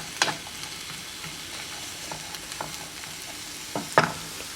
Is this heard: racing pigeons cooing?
no